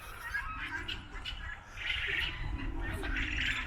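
Outdoor scene in Buraydah, Saudi Arabia, near a cornfield, with chickens and pigeons calling, bright chirps and clucking calls scattered over a low rumble, with someone talking through much of it.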